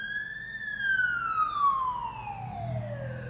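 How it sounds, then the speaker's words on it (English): An ambulance siren sweeps past on a road, a steady wailing tone that slides gradually downward in pitch as it moves away, loud and close with faint traffic rumble underneath. "Oh no, it's an ambo."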